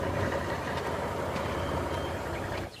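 A truck engine rumbles loudly and close by while steady, evenly spaced reversing beeps repeat over it, and the sound drops off sharply at the very end.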